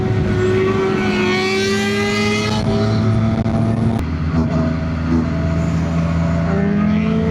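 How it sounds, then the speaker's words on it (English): A loud Suzuki Gixxer sport motorcycle engine on the road, a steady harmonic drone with shifting pitch and a sharp pop near the middle, running continuously throughout. "Yeah, that bike is so loud. Why does every Gixxer pop like that?"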